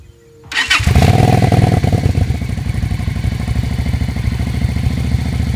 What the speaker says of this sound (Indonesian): sekarang saya akan coba dengarkan sekilas untuk suara knalpot KW V250 FA